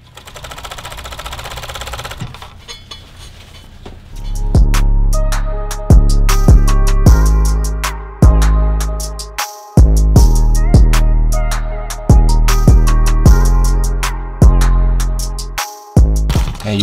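A sewing machine stitches elastic onto dress fabric in several loud, rapid bursts of needle chatter, separated by short pauses and sharp clunks as the fabric is repositioned, with no talking.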